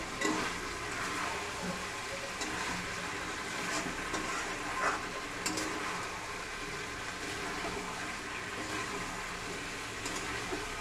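Spice paste of ginger, cumin, onion, garlic and garam masala frying in oil, a steady broadband sizzle that fills the whole stretch at an even level with faint crackles and no talk.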